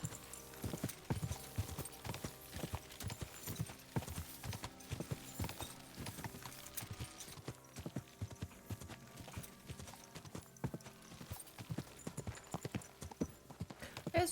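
Horse hooves gallop in a steady rapid clip-clop rhythm in the medieval video game Kingdom Come: Deliverance II, fairly quiet and continuous with a brief whinny-like sound, no talk.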